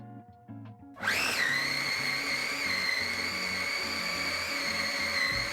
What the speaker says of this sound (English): I'm gonna start by chopping all of my ingredients for my salmon patty in my 5-cup food chopper